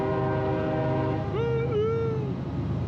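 A train horn blares near a railroad trail over steady low rumble from the passing train, loud and sustained, with the horn pitch bending midway and no one talking.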